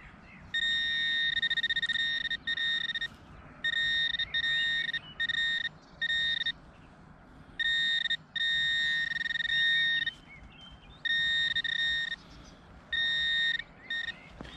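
A metal detector sounds a steady electronic tone in repeated bursts of a second or two, loud and close, with low outdoor rumble underneath while hunting for a buried target.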